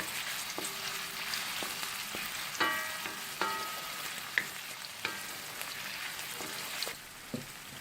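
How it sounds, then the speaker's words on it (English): Onion sautéing in a pan for Kerala-style Malabar chicken biryani: a steady, moderate sizzle with intermittent scraping stirs and light clinks, no voices. "I'm just going to saute this onion for a few minutes."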